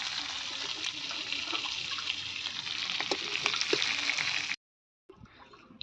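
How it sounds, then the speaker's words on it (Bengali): Dried red chillies and bay leaves crackle in hot oil as a tempering, a dense close sizzle that cuts off sharply near the end before fainter sputtering resumes. "তেলের মধ্যে দিয়ে দিয়েছি শুকনো লঙ্কা আর তেজপাতার ফোড়ন।"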